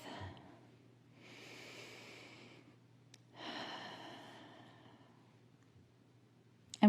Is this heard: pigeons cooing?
no